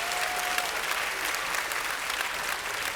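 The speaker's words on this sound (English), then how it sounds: "Please give them a round of applause." Audience applause for the band at a middle school choral concert, a steady, full wash of clapping from a seated crowd, loud and sustained with a brief tonal squeal near the start.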